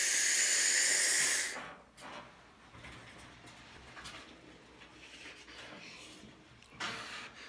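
A strong, steady hiss from a Mutation X MT RTA vape tank during an airful airflow test lasts about a second and a half and then cuts off. Faint quiet noise follows, with a short soft burst near the end.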